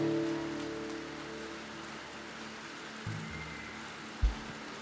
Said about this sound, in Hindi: बारिश हो रही है, अब कोई बाहर नहीं जा सकता